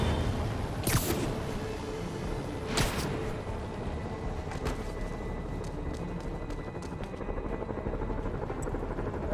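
A steady whir of helicopter rotors fills the scene in Spider-Man Remastered on PS5, with a couple of sharp whooshes early on and faint electronic tones scattered above the drone.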